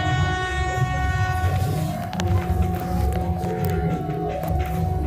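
A train horn from the 14005 Lichchavi Express in the Trainz Simulator Android game sounds as a long, steady, loud tone over continuous rail rumble and clatter, with no one talking.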